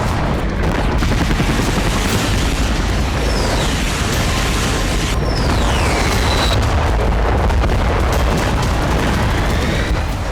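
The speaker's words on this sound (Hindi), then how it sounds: "हवा से ताबड़तोड़ बमबारी" Aerial bombing in the war in Ukraine, heard as a dense, continuous barrage of loud booms and blasts with rumbling low thunder and faint whistling tones overhead.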